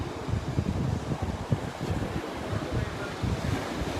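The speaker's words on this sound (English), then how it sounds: "Oh, here comes a wave." Continuous surf rushes and rumbles close by on a beach during a turtle hatchling release, with wind buffeting the microphone, a steady wash of breaking water with no voices.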